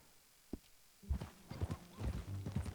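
In the video game Red Dead Redemption 2, a horse whinnies briefly, then hooves clop along in an uneven rhythm, fairly close, with a low rumble underneath.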